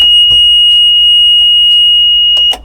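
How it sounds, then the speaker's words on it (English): A locomotive cab's buzzer system under test sounds a loud, continuous high-pitched electronic tone that holds steady, with a few faint knocks and clicks in the background before it cuts off at the end. "We need to test the buzzer system, so turn that on and press the test button."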